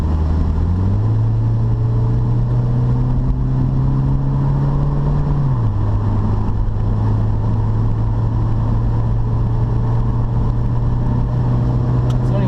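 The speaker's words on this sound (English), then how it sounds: "That's what it sounds like, and I think it sounds really good for the 4-cylinder FSDE motor" Mazda Protege four-cylinder FSDE engine with an aftermarket muffler, a loud steady exhaust drone that rises once to a higher rev, holds, then settles back to a lower held pitch, close to the car with wind buffeting.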